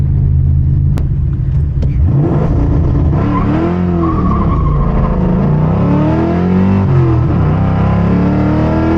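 A New Edge Ford Mustang drift car drifting on a street, its engine loud and close, revving up and down in rising and falling sweeps with tyre noise, no talking.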